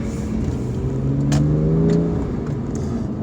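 A Porsche 911 of the 997 generation accelerates in second gear, its engine growling loud and close with a steady rising tone, no talk over it.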